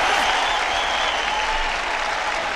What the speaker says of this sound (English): give a couple of hand claps for that